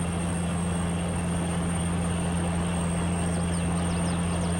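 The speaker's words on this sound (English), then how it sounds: "Do love the sound of this tractor." A big tractor engine in Farming Simulator 22 droning at a steady, loud, even pitch throughout, with no voices over it.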